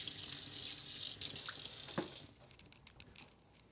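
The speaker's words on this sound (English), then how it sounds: "Rinse this spoon off real quick." Tap water runs steadily over a spoon being rinsed in a kitchen sink, a continuous hiss, then cuts off, leaving a few faint drips and clinks.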